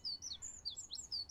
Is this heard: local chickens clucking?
no